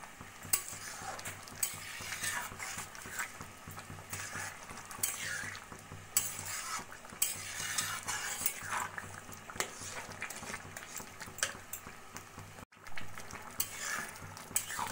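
A spoon steadily stirs chana dal khichuri in a pot after garam masala powder and a spoonful of ghee go in. The scraping and bubbling run continuously throughout, with a faint sizzle underneath and no talking.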